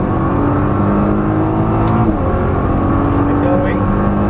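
A Nissan GT-R engine drones steadily at full throttle on a track in Las Vegas, loud and close with a sustained tonal roar, while a person speaks over it.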